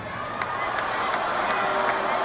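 A crowd at a concert claps and cheers, a broad steady roar with a few sharper claps and shouts standing out, close and fairly loud throughout.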